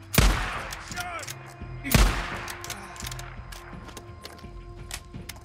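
Gunfire in Days Gone: two sharp, loud shots about two seconds apart, each followed by a ringing tail, with fainter pops and clatter between them.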